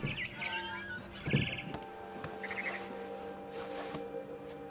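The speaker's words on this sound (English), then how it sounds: "Then I heard chirping outside my window." A barn swallow in a video game chirps outside a window, several short bright tweets and trills over a faint steady game-world background hum.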